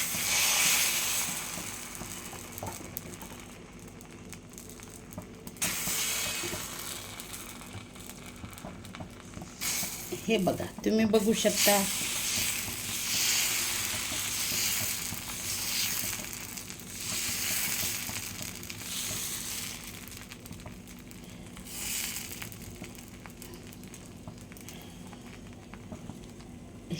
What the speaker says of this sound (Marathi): आपला जो तवा आहे तो तापलेला आहे आणि आता त्यावर मी डोसा टाकणार आहे